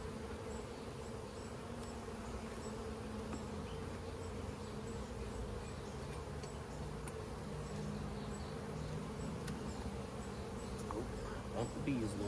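Honey bees buzzing steadily around an opened hive, a dense continuous drone heard close up throughout, with faint handling noises near the end.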